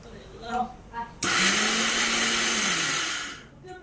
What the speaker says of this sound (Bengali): এখন হচ্ছে যে চাল ব্লেন্ডার করতেছি